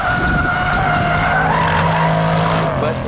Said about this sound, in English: Hard on the gas, traction control cuts in.